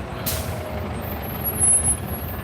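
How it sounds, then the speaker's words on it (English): A bus on a city route rolls past with a loud burst of air-brake hiss near the start, followed by a steady diesel engine rumble that swells briefly before fading. "Some of these buses can be quite noisy."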